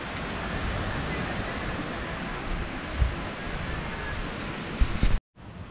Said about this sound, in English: Just look at the sea. The water is beautiful.